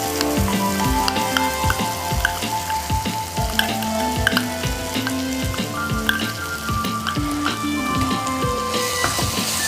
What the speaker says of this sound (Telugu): కొంచెం నూనెలో వేగనిద్దామండి.